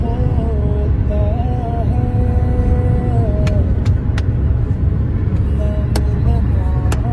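A car cruises along the Samruddhi Mahamarg highway, its steady low road rumble and engine drone continuous throughout, with faint tonal whines and brief clicks over the top.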